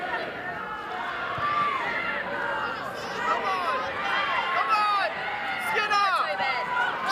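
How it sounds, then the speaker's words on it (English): A women's FA Cup football crowd at Arsenal versus Chelsea chants the name Skinner, a sustained, dense roar of many voices with rising and falling calls throughout. "Skinner is the cry from the crowd"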